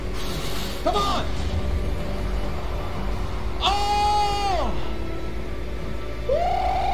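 Sheep bleating in Minecraft, several short wavering baa calls spaced apart over a constant game background hum, with excited talk running alongside.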